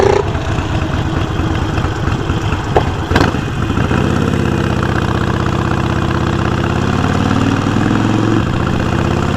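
A motorcycle engine idles in slow rush-hour traffic, a steady close rumble running the whole time with a brief throttle blip early on, then settling into an even low putter.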